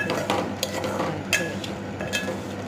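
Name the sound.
stirring and frying vermicelli in a pan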